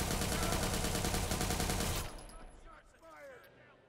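Rapid, loud automatic gunfire rattles continuously for about two seconds in Watch Dogs 2, then cuts off, leaving faint background game sounds.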